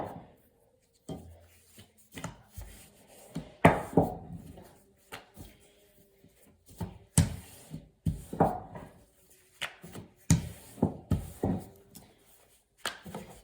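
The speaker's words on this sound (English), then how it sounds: "Put some flour down. And get your rolling pin. And try to keep a circular shape." Rolling pin working flour tortilla dough on a floured surface, heard as soft irregular rubbing and thumping strokes in bursts with short pauses, close and fairly quiet.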